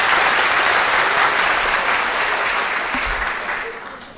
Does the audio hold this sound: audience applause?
yes